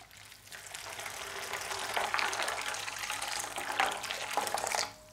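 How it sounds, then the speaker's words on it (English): Boiling water from a kettle poured over peeled pistachios in a bowl, a steady close splashing pour lasting about five seconds before stopping abruptly. "Cover them in boiling water"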